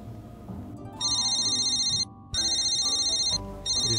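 A mobile phone rings in bursts of a bright electronic ringtone, three loud pulses with short gaps, over a low background music bed in a film trailer.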